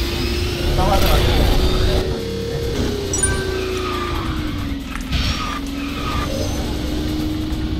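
A kart in the racing video game KartRider drifts and skids with a steady engine drone and a continuous tire squeal over game effects, while a voice talks throughout.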